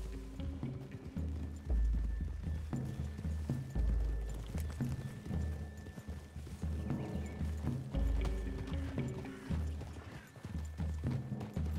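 Horses' hooves on the ground in Red Dead Redemption 2, uneven soft thuds and clopping from several riders moving at a gentle pace over low ambient noise, with no voices over them.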